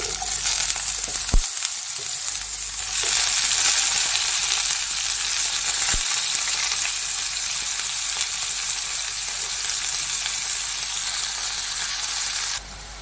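Ridge gourd sizzles and fries in hot oil tempered with bay leaf, cumin and dried red chilli, a steady loud crackle with occasional stirring, no talk.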